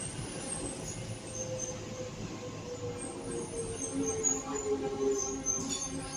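Docklands Light Railway train running between Canary Wharf and London City Airport, a steady interior rumble with faint wheel squeal and rail hum, continuous and moderately loud.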